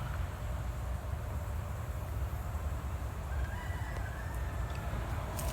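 An old chicken crows once, clear but somewhat distant, over a steady outdoor hiss and low rumble on a raised rail road bed, with a few faint clucks and no voices.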